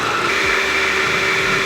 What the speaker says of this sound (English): Now we transfer the sauce to a blender, as well as the remaining poblano chili.